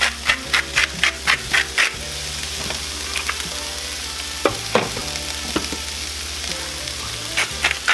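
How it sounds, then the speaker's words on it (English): Fajita vegetables sauteing in a skillet, a steady close sizzle with repeated sharp scraping and stirring clatters in bursts, no talk. "We're gonna let these saute a bit, get them nice and soft."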